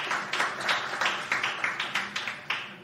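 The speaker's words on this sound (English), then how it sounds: "If you would please give a round of applause to those two gentlemen as well" A live audience gives a round of applause to two hockey player guests on a talk show, with a string of separate sharp claps over a steady bed of clapping, moderately distant and fairly quiet, with no talk over it.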